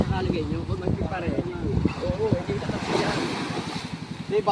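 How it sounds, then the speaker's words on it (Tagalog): Strong waves crash and surge near a boat on open water, churning loudly and steadily under Filipino speech with gusts of wind buffeting the microphone. "lakas ang salpak ng alon oh"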